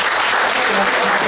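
A church congregation claps during a sermon, a loud, dense burst of applause that lasts just over a second.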